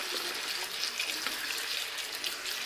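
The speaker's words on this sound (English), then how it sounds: "I'll throw a little water in the old vegetables here" Water splashes steadily from a tap or pitcher onto vegetables in a cooking pan, a close, continuous hiss and patter with no talk.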